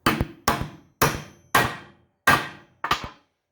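Six separate hammer blows drive parts into a dolly during a rebuild, each a solid, close thud that decays quickly, falling in a fairly even rhythm with short gaps between them.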